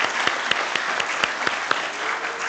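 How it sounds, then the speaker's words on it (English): A round of applause from a student colloquium audience at the close of a session, steady and fairly close, with a few sharper individual claps standing out in the dense clapping. "let's give final big round applause for all of us in this"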